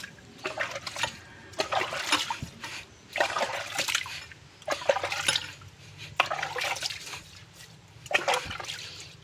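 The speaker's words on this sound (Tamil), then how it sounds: "இப்போ நம்ம தொட்டியை கழுவிட்டுருக்கோம்." Water splashing and pouring in bursts while a fish tank is scrubbed and rinsed out, several irregular splashes close by with short pauses between them.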